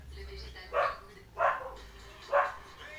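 A dog barks three times at a steady pace, moderately close, over a low background hum.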